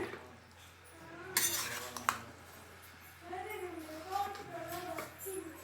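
A spoon stirs green tomato bath, a rice dish with peas, in a metal pot, giving a few sharp clinks and scraping sounds. Someone talks alongside it.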